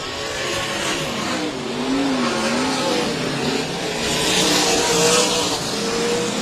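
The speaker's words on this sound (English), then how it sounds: "Claude Estes doing a nice job coming down to complete lap 3 in first place" Sprint cars race around a dirt speedway in a Bandit Outlaw Sprint Series event at Heart O' Texas Speedway, engines droning steadily and rising and falling as the pack circles, loud and continuous without talking.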